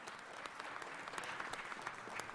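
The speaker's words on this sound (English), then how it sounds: "let's give President Lima another round of applause" An audience at a city council meeting gives a round of applause for President Lima. Soft, distant clapping from many hands forms a steady wash throughout.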